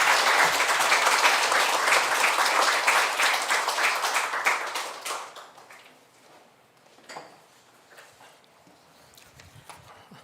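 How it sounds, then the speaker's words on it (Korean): Loud, dense applause from a church assembly at a founding general meeting, welcoming the interim chairman; the clapping runs steadily for about five seconds, then fades out, leaving quiet room sounds. "여러분 뜨거운 박수로 환영해 주시면 되겠습니다"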